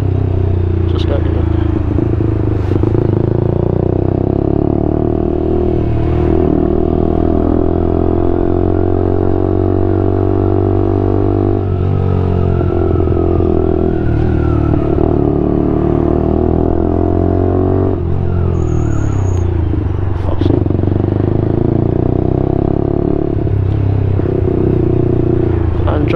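A Lexmoto LXR motorcycle ridden through London traffic, its engine droning continuously with shifting revs, and someone talking over much of the ride.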